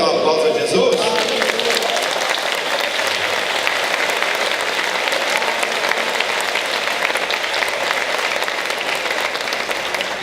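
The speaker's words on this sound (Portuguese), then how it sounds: "Quer dar um aplauso a Jesus?" A huge crowd at a large church gathering breaks into loud, dense applause that roars on steadily for the whole stretch, with a few voices briefly mixed in at the very start.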